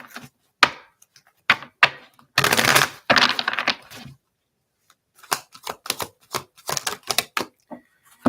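A deck of oracle cards is shuffled nearby, with a dense papery riffle lasting about a second. Sharp, irregular taps and clicks follow as the cards are squared and handled, separated by brief silences.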